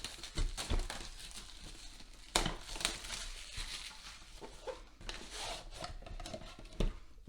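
Crinkly foil wrapper of a Pokémon Fusion Strike card pack being handled and cut open with scissors, with close, quiet crumpling and rustling in bursts and a few sharper snips and crackles.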